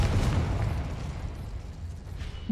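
Confringo blasting spell explosion in Hogwarts Legacy, a booming burst at the start that rumbles and decays into a lingering low roar over a couple of seconds.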